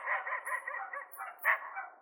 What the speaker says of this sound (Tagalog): Nasaan ba yung aso na yan?